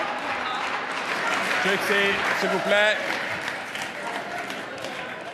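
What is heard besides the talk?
applause in parliament chamber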